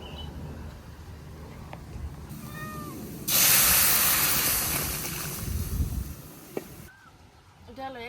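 Dal poured into a hot pan of fried tempering hits with a sudden loud hiss of sizzling that slowly fades, with clinks of utensils and soft background noise around it.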